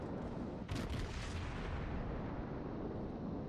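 Naval artillery salvo in the World of Warships game, a single heavy boom followed by a deep rolling rumble that fills the rest of the clip, loud and close, with no talking.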